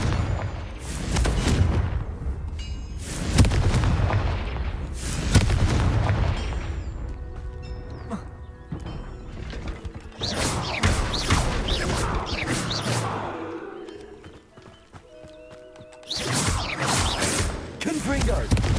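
Blasting spells from Hogwarts Legacy go off in a run of heavy, booming explosions with crashing debris, several loud bursts spaced a few seconds apart amid game effects and some talk.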